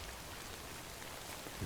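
Steady rainfall in the video game Death Stranding patters in a dense, even wash of drops, heard alone without any voices.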